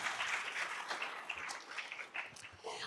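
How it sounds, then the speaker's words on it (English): An audience of conference attendees at a kickoff event clapping for the Gen Z members in the room, a soft, even spread of applause at moderate distance that tapers off slightly toward the end. "Let's give the Gen Zers a big round of applause."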